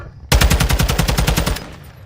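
Rapid automatic gunfire from a Modern Warfare video game match, a sharp burst of about a dozen evenly spaced close shots lasting just over a second, then trailing off.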